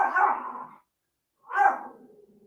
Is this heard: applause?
no